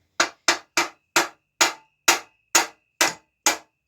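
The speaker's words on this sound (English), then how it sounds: "So what we'll do is we'll get a little hammer." Small hammer tapping a stuck bolt on a bike frame, about ten sharp metallic taps at an even, steady pace, close and clear with a faint ringing after some strikes.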